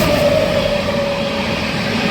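A train rolls past in the dark near Secunderabad on the Satavahana Superfast Express route, a steady rumbling drone with a faint high tone, continuous and fairly loud for the whole stretch.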